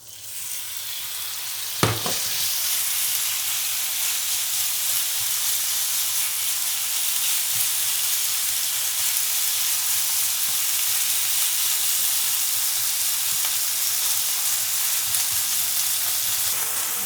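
Chicken fries in olive oil in a pan, a loud, steady sizzle and crackle that starts with a sharp clack and then holds at an even level throughout, with no voices.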